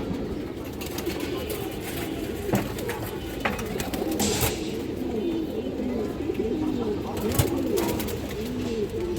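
Pigeons, including a hen bird, coo steadily in soft repeating rolls close by, with occasional wing flaps and faint voices in the background of a pigeon sale.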